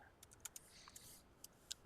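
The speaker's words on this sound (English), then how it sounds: "let's finish typing out these" Quiet typing on a computer keyboard, a few scattered key clicks at an irregular, unhurried pace over steady background hiss.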